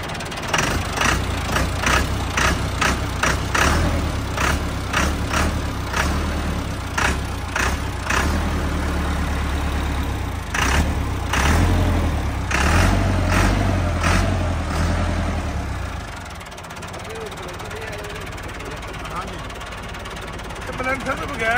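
A Massey Ferguson MF385 tractor engine idles nearby with a low, steady diesel rumble and rhythmic knocking, while someone talks over it; the engine fades toward the end.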